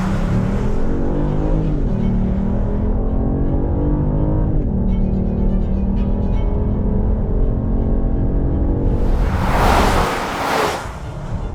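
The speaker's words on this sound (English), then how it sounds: "you hear the sound of that turboed 6." The turbocharged six-cylinder engine of a 2021 Genesis GV80 SUV pulls steadily under acceleration, a continuous coarse drone that climbs in pitch. A rush of wind or road noise swells near the end.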